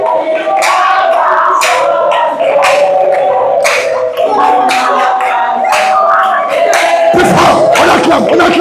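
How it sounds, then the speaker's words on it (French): A church congregation at the closing session of a seminary cheers and acclaims loudly and continuously, a dense crowd roar with shouts rising above it throughout. "Acclamez. Élevez-le."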